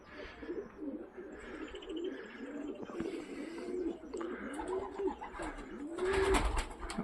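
Pigeons in a loft coo softly and repeatedly, low rolling calls overlapping at close range with a few faint rustles and a brief louder flutter near the end.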